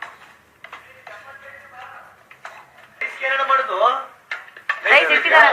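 Metal pots and utensils clink and scrape in a kitchen while tomato gravy cooks, irregular close clatters and taps, with people talking throughout.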